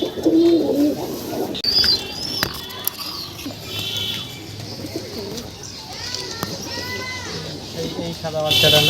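Pet doves coo softly and repeatedly at close range in a home setting, their calls mixing with chirps and other bird sounds while a person talks over them.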